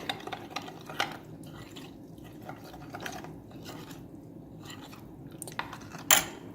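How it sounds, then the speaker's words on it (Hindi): Homemade chicken jalfrezi masala mixed with a little water, giving soft, close, irregular wet stirring and scraping sounds with a few sharper clicks, quiet and with no talking. "इसमें मैं थोड़ा सा पानी ऐड करूँगी और इसे मिक्स करूँगी अच्छी तरह।"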